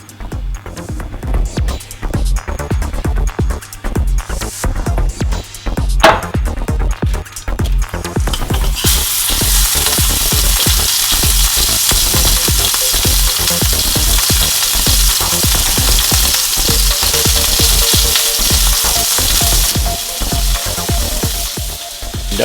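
Ground beef burger patty frying in a hot pan with olive oil, starting with clattering and handling noises, then settling into a loud, continuous close-up sizzle and hiss that persists to the end, with no speech.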